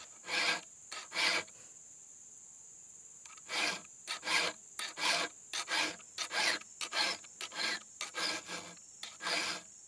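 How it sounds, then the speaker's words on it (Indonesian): A hand file sharpening the teeth of a chainsaw chain, rhythmic rasping strokes in short bursts, some paired, with brief pauses between them, close and clear. "mengasahnya ini harus pada pada akhir akhir yaitu dorongan kikir harus diputar"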